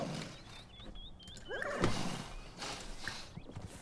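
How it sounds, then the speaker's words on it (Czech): A horse in The Sims 4 lets out a falling whinny about halfway through, over a steady bed of in-game ambience with light chirping tones and soft hoof-like knocks. "Co to dělá ten kůň?"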